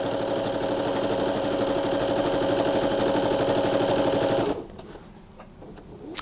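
A sewing machine stitches tote fabric pieces together with a 1/4 inch seam allowance, running in a fast, steady mechanical whir close by, then stopping abruptly near the end, leaving quiet handling noise.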